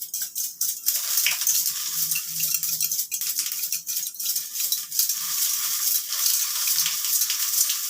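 Fenugreek and white cumin seeds sizzle and crackle steadily in hot oil, a dense close frying hiss with faint stirring clinks, no voices.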